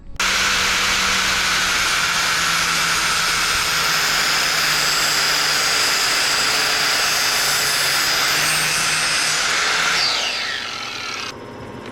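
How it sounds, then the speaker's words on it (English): An angle grinder cuts through a part wrapped in electrical tape, a loud continuous high-pitched whine that holds steady for about ten seconds, then drops away as the cut finishes and the disc spins down. "and now I'm gonna cut it with a grinder"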